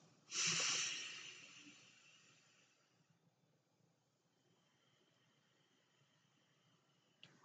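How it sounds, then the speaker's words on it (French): One forceful nasal exhale bursts out close to the mic during a guided belly-breathing exercise, then trails off into a quiet, airy hiss with near silence after. "Et vous soufflez par les narines."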